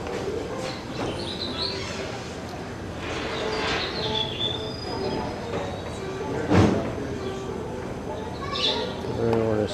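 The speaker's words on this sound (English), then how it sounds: "and there's the train." A train rolls past during a road trip through Chattanooga, Tennessee, a steady rumbling wash with occasional wheel squeals and birds chirping, people speaking at times.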